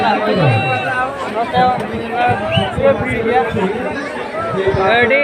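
Busy crowd chatter fills the Santipur Kali fair, overlapping voices near and far in a constant lively hubbub with louder nearby talkers breaking through.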